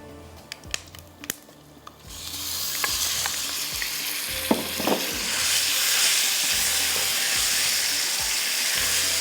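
Chicken frying in garam masala in a kadai, with a few light clinks and knocks at first, then a loud, steady sizzle taking over and continuing to the end.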